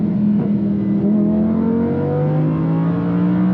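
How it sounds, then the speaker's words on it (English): A Lamborghini Huracan's exhaust revs up and holds a rising, throaty drone, loud and close, with no voices. "Let's hear the exhaust sound"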